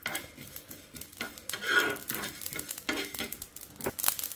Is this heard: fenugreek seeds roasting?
yes